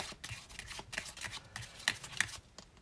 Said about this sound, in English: you're going to pretend doing an overhand shuffle